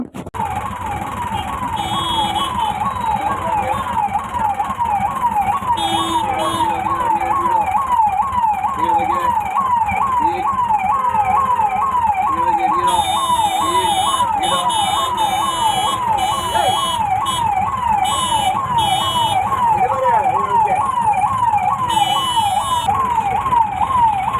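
Loud ambulance siren wailing and rising and falling in a rapid, regular cycle on a road, continuous throughout, with high electronic tones layered on top.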